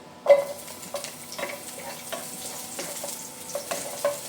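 Onion dropped into hot oil in a pan for chicken sinigang, a soft steady sizzle broken by repeated clinks and scrapes of a utensil stirring, fairly quiet and close.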